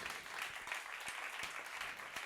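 Audience applause for award winners at a French studies and innovation trophies ceremony, a steady, faint patter of many hands clapping at a distance with no voices over it.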